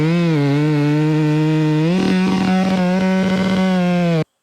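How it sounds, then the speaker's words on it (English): A carbureted chainsaw idles loudly with its chain running, a steady buzzing engine tone that rises slightly midway into a rougher rattling idle before cutting off abruptly. "you don't want the chain running when the saw is idling"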